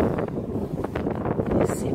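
Gusty wind buffets the microphone with low rumbling bursts, loud and continuous, with no clear voices.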